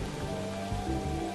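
Steady, soft rain pattering on a surface, with a continuous hiss of drops and a few slightly heavier spatters throughout. No voices are heard.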